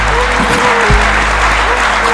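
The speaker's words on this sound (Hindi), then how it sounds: "एक बार गगन भेदी तालियां उस व्यक्ति के लिए बजवाइए" Audience applause at a Hindi poetry recital, a loud, continuous crowd clapping over a humming sound system throughout the brief moment.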